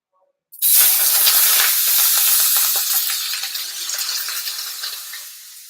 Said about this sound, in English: So I got my pan hot. All right, get some oil in there, and let's go with the steak.